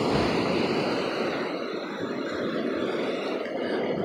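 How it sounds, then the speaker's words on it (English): Water washing over rocks as the tide comes in, a steady broadband rush of surf that holds at an even, moderate level throughout. "one thing that I love is when the water comes over the rocks"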